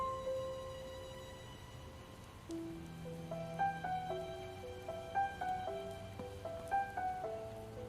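Soft, constant rainfall patters in the game Project Zomboid under a quiet looping melody, with sparse notes that grow busier after a few seconds.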